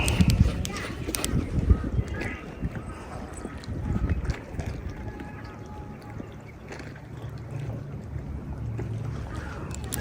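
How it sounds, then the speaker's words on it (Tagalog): Strong wind buffets the microphone in loud, low rumbling gusts, with water and boat noise around it and occasional voices in the background. "Ang lakas ng hangin."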